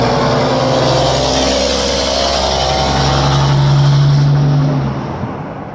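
Trucks rev their engines loudly and steadily, a throaty roar with a rising drone that holds for several seconds before easing off near the end, with no talking.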